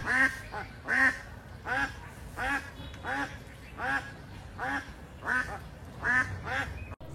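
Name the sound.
duck quacking loudly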